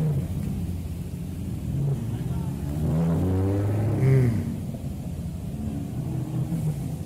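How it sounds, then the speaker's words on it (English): Ferrari supercar engine revving at a car meet in Indonesia, a rising and falling roar swelling in the middle then easing off, over background rumble with some voices around. "Followed up by a Ferrari."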